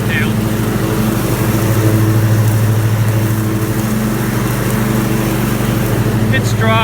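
A lawn mower with standard blades cuts through knee-high dry foxtail, its engine droning loud and steady close by, with a person talking over it.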